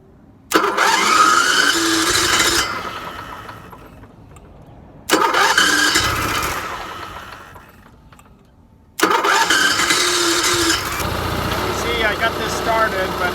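A rough-running petrol generator with a carburetor fault cranks and starts three times, each start bursting loudly into an uneven, sputtering run before dying down, then catching again and continuing to run rough at the end.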